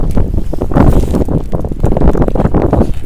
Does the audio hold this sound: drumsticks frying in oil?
no